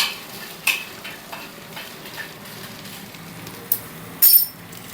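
Red chillies and coriander seeds dry-roasting in a pan, stirred with light, intermittent scrapes and small clinks, a brief rattle near the end, fairly quiet and close.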